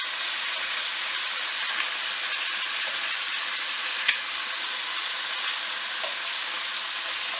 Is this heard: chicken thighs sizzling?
yes